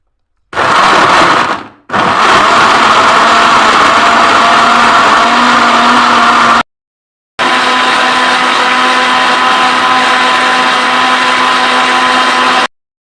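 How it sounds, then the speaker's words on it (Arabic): A kitchen blender whirs loudly while blending a juice of milk, sugar and dates, running in long steady bursts with a brief stop early on and a pause near the middle before it starts again. "هنشغل الخلاط ونعمل العصير"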